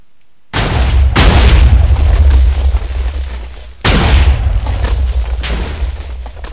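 Two heavy explosions from Mark III cannon shots in a block-building video game, each a sudden deep boom with a long rumbling tail, the second arriving about three seconds after the first, loud and close.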